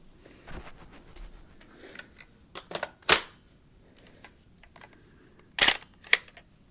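Sharp metallic clicks and clacks from a G&P M4 airsoft rifle's bolt catch being worked, a few scattered light handling taps followed by two loud snapping releases close up, with no talk.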